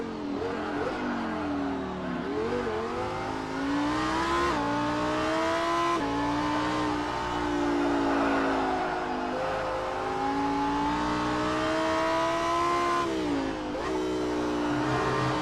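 Onboard a Lamborghini STC race car at Laguna Seca, with a loud, continuous engine roar that climbs and drops through gear changes and braking, and a faint squeal of tires under load.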